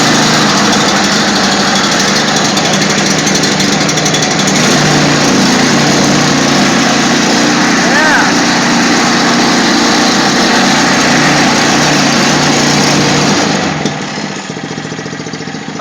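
A Toro 724 snow blower engine runs loud and close with a steady, buzzing high-pitched drone, then cuts back abruptly near the end.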